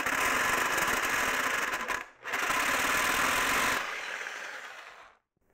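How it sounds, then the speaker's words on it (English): A Sawzall fitted with a 24 TPI blade cuts sheet metal with a loud, steady buzzing rasp. There is a brief break near the two-second mark, then the cut resumes and the motor winds down to a stop. "cutting metal with a Sawzall is just, it's just not the ideal tool for the job"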